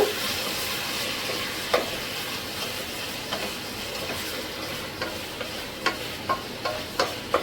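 Tomatoes and onions with ginger garlic paste sauté in a pan, giving a soft continuous sizzle with a series of light spoon scrapes and taps that become more frequent toward the end.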